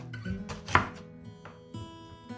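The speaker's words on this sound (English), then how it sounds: "that's the first round of chopping completed" A knife chops a red onion on a cutting board in a home kitchen, giving a handful of crisp, irregular chops close up, with quiet pauses between strokes.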